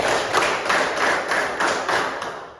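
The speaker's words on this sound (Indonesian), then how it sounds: "Tepuk 1 kali, 2 kali, 3 kali" Classroom of students clapping in unison a counted number of times, a run of roughly seven sharp group claps spaced evenly, fairly close and moderately loud, with no talk over them.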